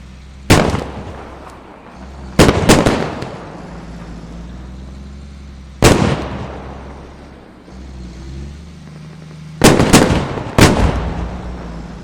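Gunfire in the military shooter game Squad, with a few sharp, loud shots and short bursts spaced several seconds apart over a steady low rumble of background ambience.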